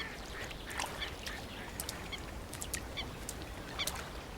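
Mallard ducks quacking on a Swiss lake during mating season, a series of short, scattered quacks at moderate distance over a soft, continuous outdoor background.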